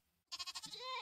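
A goat in a video game lets out a single quavering bleat, close and clear, with a rapid pulsing tremolo that trails off.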